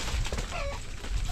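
A startled chicken lets out a short, sharp cluck close by, over a busy outdoor background, lasting only about a second.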